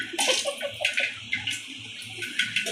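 Water is poured into hot oil while cooking masala vada pulusu, a short burst of bubbling, hissing splashes close by, fairly loud and continuous for a few seconds with no talking.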